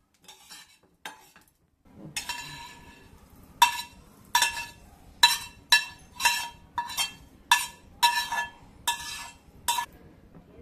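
Green peas for a matar karanji filling get sautéed in a pan. A utensil scrapes and clinks against the pan about a dozen times in a steady rhythm, with faint sizzling underneath.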